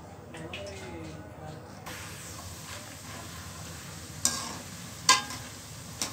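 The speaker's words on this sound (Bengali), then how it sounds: "আমি এভাবে করে সবগুলো মোটা সেমাই ভেজে নিব।" Thick semai vermicelli fries in a pan, a muted hiss that thickens after a quieter opening, broken by a few sharp clicks and scrapes as it is stirred.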